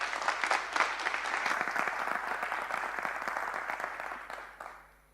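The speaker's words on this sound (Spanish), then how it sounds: "Un aplauso, por favor, para él." An audience at a cybercrime talk applauds a speaker with sustained, dense clapping from a sizable crowd, holding steady for several seconds before fading out at the end.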